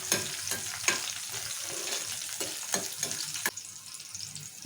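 Chopped green chillies frying in hot oil in a pan, a soft steady sizzle broken by several sharp stirring scrapes, close and with no talk.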